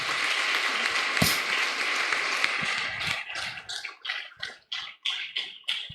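A church congregation applauding during a family service, a dense wash of clapping that thins into scattered separate claps and fades toward the end.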